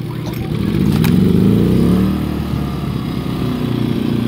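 Two inverter generators, a Predator 3500 and an iPower 2000i, run side by side at close range, a steady droning engine hum that swells louder for a couple of seconds, then settles back to an even running note.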